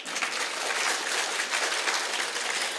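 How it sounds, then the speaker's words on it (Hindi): Steady, dense applause from an audience at an Arya Samaj annual celebration in Kirti Nagar, a continuous loud wash of many hands clapping throughout with no pauses. "जोरदार तालियां बजाओ।"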